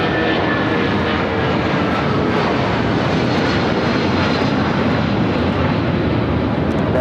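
An airliner taking off from runway 25 left at LAX gives a steady, loud, broadband jet-engine roar that holds evenly throughout, with no voices.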